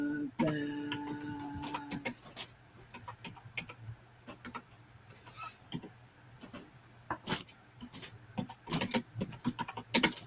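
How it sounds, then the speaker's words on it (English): Clicky, noisy computer keyboard typed in irregular bursts of sharp, close taps, with pauses between runs and brief talk near the start. "Miss Laurie's keyboard is noisy."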